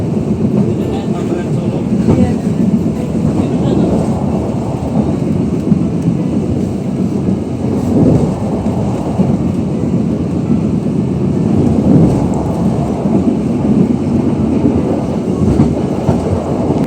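A passenger train runs through Cikarang station, its steady loud rumble and rail noise continuing throughout with faint clacking, heard from inside the carriage.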